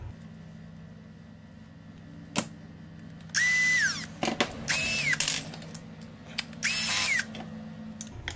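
A power drill drives screws while a DCA 125B long-handle mini grinder is assembled, three loud whirring bursts a second or two apart amid small clicks and handling knocks, close by and without speech.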